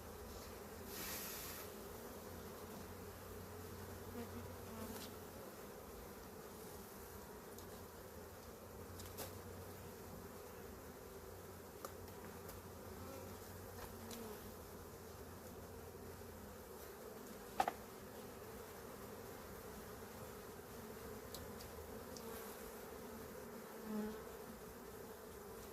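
Honeybees buzzing steadily around an open hive during an inspection, a dense continuous drone close by with occasional faint knocks, no voices.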